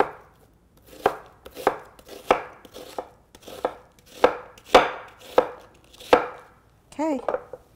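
A knife slices through onions on a cutting board in a steady series of about a dozen crisp, close chops, each a sharp thud, with a brief rustle at the end.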